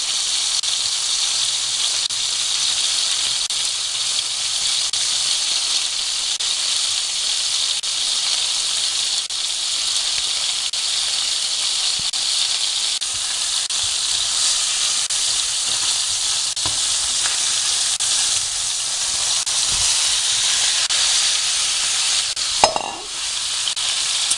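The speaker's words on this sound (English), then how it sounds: "So now I'm placing the garlic." Garlic sizzles steadily in a frying pan, a loud, even hiss of frying that carries on without a break, with a brief clatter from stirring near the end.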